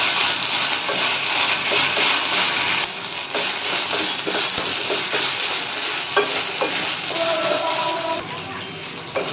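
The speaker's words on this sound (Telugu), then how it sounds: "అల్లం వెల్లుల్లి పేస్ట్ వేసి బాగా కలుపుకోవాలి." Loud continuous sizzling of ginger garlic paste frying in a hot pan, with repeated scraping and stirring strokes throughout.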